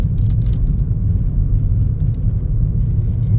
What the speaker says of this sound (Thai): รถกำลังลงคอยพี่น้อง